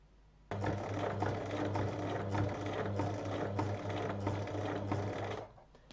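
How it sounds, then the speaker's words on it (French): A sewing machine stitches darts in a bag lining: a steady, close mechanical whir with a rapid needle rhythm, starting abruptly and running for about five seconds before stopping. "on place endroit contre endroit, on superpose les traits et on pique sur la ligne"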